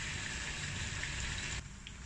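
Buffalo chicken wings frying in hot oil make a loud, steady bubbling sizzle close by that drops suddenly to a softer hiss near the end, with no talking.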